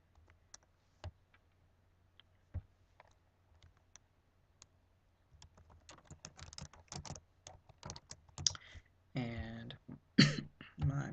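A computer keyboard is typed on at close range, starting with sparse, scattered clicks and building into a denser burst of keystrokes near the end, with a brief throat-clearing sound.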